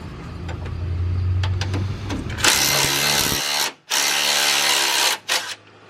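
An impact wrench spinning off the bottom nut of a car strut assembly, a loud high-pitched whirring rattle in two long bursts and a short one, following a lower tool hum, close up.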